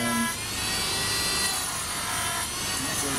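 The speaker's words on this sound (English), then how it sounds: "I'm just going to dremel it out." A Dremel rotary tool grinds out the inside ridge of a PVC pipe with a steady, close, high whining rasp that runs continuously with slight surges.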